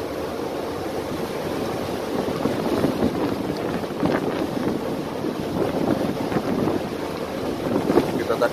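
Ship KM Sarolonda pushing through high December waves on the Java Sea, with a steady roar of wind buffeting the microphone and rushing water along the hull, swelling slightly midway and continuing without a break.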